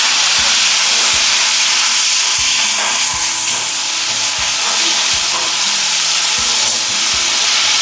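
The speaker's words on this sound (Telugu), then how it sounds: "ఆయిల్ వేసుకొని, బాండలు పెట్టుకొని ఆయిల్ వేసుకొని కొద్దిగా జీలకర్ర వేసుకోవాలి" Cumin seeds fry in hot oil in a pan for a coriander fish curry, a loud steady sizzling hiss throughout, with repeated low clanks of a utensil against the pan.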